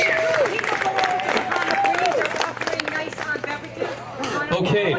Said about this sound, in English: let's have a big round of applause for everyone that's worked hard over there